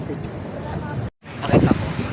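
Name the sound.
wind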